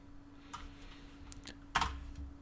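A few soft, scattered keystrokes tap on a computer keyboard at close range, with one brief quick cluster of clicks.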